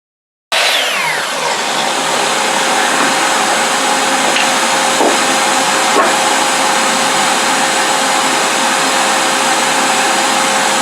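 A power tool cutting and sanding pieces of redwood fence board for a picture frame gives a loud, steady, continuous whine that starts abruptly and runs without a break, with no talking.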